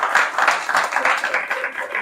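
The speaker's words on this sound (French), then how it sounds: "Par applaudissement, qui pense qu'il a déjà été envoûté ici là?" Audience at a live French-language comedy show on bewitchment claps in answer to a show-of-hands question, a loud, busy patter of many hands with voices mixed in.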